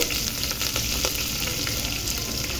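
Onion pieces fry in oil in a pot, along with cashews and a bay leaf, making a loud, continuous, bright sizzle for a few seconds with no talk.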